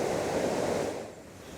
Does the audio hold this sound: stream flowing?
yes